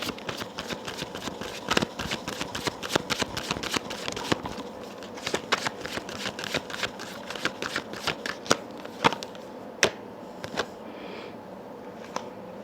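Tarot cards are shuffled close by for a reading: rapid, crisp riffles and snapping flicks, repeated in quick bursts with short pauses between them.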